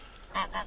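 Geese in the game Farming Simulator 2015 give a couple of quick, nasal honks close by over faint background ambience.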